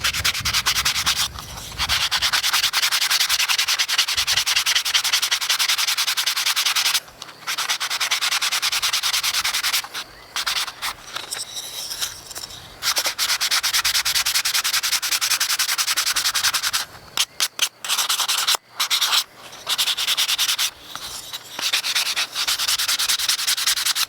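Fine-grit sandpaper rubs steadily over a small wooden nativity figure carving, a close, dense scratching hiss in continuous strokes with a few brief pauses.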